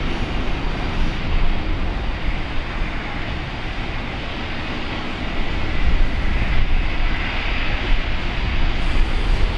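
A Velocity jet airliner leaving Brisbane Airport on a Bali flight produces a loud, sustained jet roar that swells slightly partway through, with no talking heard.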